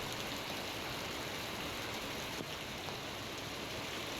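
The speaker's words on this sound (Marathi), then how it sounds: "पनवेलमध्ये मुसळधार पाऊस कोसळतोय, त्यामुळे गडी नदी तुडुंब भरलेली आहे।" Heavy monsoon rain pours down in Panvel as a steady, even hiss that holds without a break throughout, fairly faint and distant.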